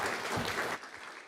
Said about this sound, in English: Let's give another round of applause to all the others.